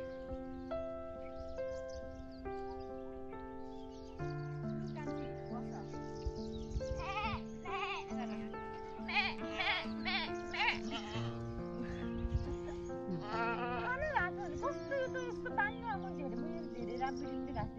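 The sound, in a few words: goats bleating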